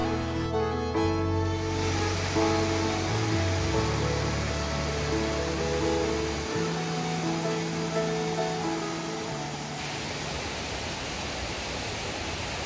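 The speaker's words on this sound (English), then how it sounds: "I hope you can hear me above the noise of the river." A rushing river near Narvik in Arctic Norway, a broad, steady roar of churning water filling the whole stretch, loud and close with no voices.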